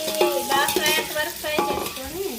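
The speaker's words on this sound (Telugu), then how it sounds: "బాగా మనకి ఉల్లిపాయ, పచ్చిమిర్చి అనేది బాగా ఫ్రై అయినాయి కదా" Onions and green chillies fry in a pan with a steady sizzle while a spoon scrapes and stirs, and a voice speaks over the cooking noise.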